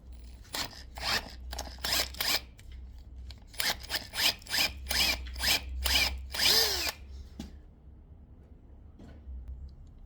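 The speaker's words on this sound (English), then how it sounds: "So now to drill and tap that." A power drill bores into an engine's oil gallery on a 2JZ build, running in repeated short bursts that start and stop, close and loud over a low steady hum, without any talk.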